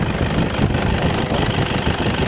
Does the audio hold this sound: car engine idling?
yes